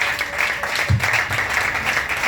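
A church congregation applauds steadily, a dense wash of many hands clapping at once, sustained and fairly loud throughout.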